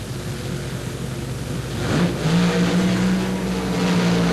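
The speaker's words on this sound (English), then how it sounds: "And something breaking with John Rodak's car, but Shirley not backing out of it in the least" NHRA drag racing cars at the 1976 World Finals roar off the line, a loud broad engine rumble swelling midway into a sustained high whine as they accelerate away.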